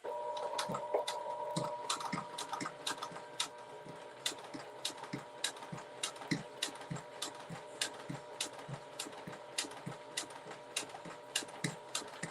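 Sewing machine running slowly while stitching lines on a fabric notebook holder, a quiet mechanical whir with soft regular ticking pulses and faint clicks, alone and close.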